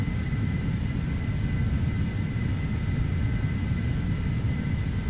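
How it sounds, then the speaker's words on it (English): Cabin drone of an Embraer Phenom 300 jet cruising in the Prepar3d flight simulator, a steady low rumble with a faint high whine held evenly and alone throughout. "This is quite a quick little aircraft."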